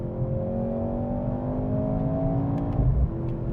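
Mercedes C43 AMG engine with electronically amplified exhaust accelerating, a loud, steady droning note rising in pitch, close and dominant, with a brief gear-change dip near the end.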